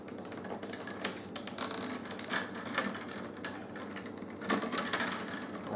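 A willow rod being bent and curved over to form a basket border, producing dense creaking and rustling crackles with repeated short snaps at close range and no talking.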